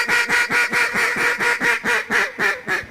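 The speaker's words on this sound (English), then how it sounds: "Maybe there's a bunch of ducks." A rapid, evenly spaced run of loud, nasal duck quacks, about a dozen in three seconds, close and uninterrupted.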